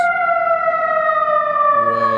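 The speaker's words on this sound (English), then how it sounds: "There's an ambulance" An ambulance siren on a city street, a loud sustained wail holding steady and sliding slowly down in pitch, close by and alone, with a low rumble of traffic joining near the end.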